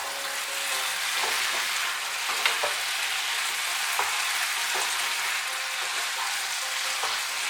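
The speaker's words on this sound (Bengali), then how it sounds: "হলুদ গুঁড়োটাও মিশিয়ে নেব।" Turmeric powder being stirred into pui shak greens frying in a pan: steady close sizzling with light scraping stirs and occasional soft clinks, with no talking.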